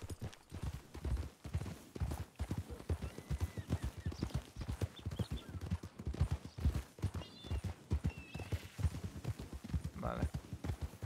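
Horse hooves clip-clop and trample steadily in the El Rancho RP video game, a fast, even run of close, loud thuds that carries through the whole stretch, with faint whinnies and game sounds behind.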